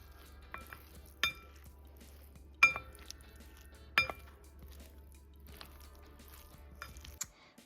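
Utensils clink sharply against a bowl while sauce is mixed into raw cauliflower rice, with several isolated taps spread apart over a quiet background.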